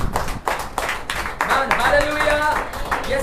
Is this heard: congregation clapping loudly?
yes